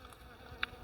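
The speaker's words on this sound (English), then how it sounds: "The bees are just now starting to work these too." Bees working the flowers of giant kohlrabi plants gone to seed in a spring garden, giving a faint, low hum close to the mic with one brief, sharper buzz as an insect passes near.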